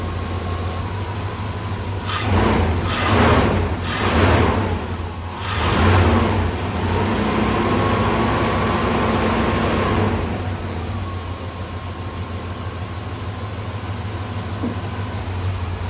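A 1995 GMC Sierra 2500 pickup with a blown head gasket gets a few quick throttle blips, engine swelling up and dropping back in short bursts over a steady rough idle, close by.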